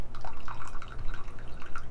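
Water dripping and trickling from a Flair 58 espresso maker during purging, a close, irregular run of wet drips and splatters without talk.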